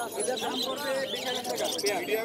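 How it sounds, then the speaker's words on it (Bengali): Close, varied whistles and warbling calls from a myna bird at a Dhaka bird market, rising and falling in quick, speech-like phrases. "এখানে যে এক জোড়া ময়না আছে"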